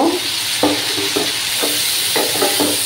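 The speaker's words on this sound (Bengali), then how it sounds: "মশলাটাকে আরও কিছুক্ষণ এভাবে কষিয়ে নেব।" Spice paste with Kashmiri chilli powder sautéing in a pan for a tangra fish curry, a steady close sizzle broken by about six scraping stirs of the spoon at a regular pace, with no talking.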